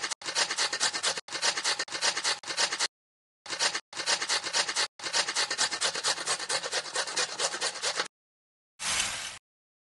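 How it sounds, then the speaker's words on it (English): Food grated in the Masha and the Bear Pizzeria mobile game, a bright rapid rasping scrape in several bursts broken by short silences, ending with one brief rougher swipe; no voices. "We need to grate this."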